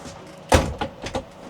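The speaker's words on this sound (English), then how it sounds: "that door locks." A small boat's cabin door on a narrow canal boat shuts with one firm thud, then two lighter clunks of the lock being fastened, close by and clear.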